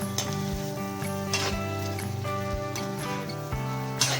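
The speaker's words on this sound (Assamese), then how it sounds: "মাছৰ কণী ভাজি আছোঁ।" Fish roe sizzles in a pan for a local fish curry, a soft steady crackle under light background tones, with regular soft knocks roughly every half second and no talking.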